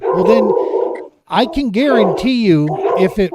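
A nearby dog barks and yips in bursts, some with a whimpering tone, overlapping a man's speech in an indoor podcast setting.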